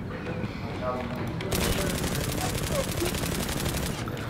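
Rapid automatic gunfire in the online shooter Zula during a tournament match, loud and near, a dense unbroken rattle of shots that intensifies partway through and barely lets up.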